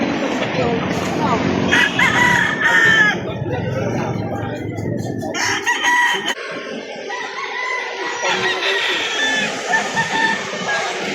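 Many chickens cluck and roosters crow amid a noisy crowd at a livestock market in Victoria, Laguna, Philippines, with people talking and calling out around them in a busy, bustling setting.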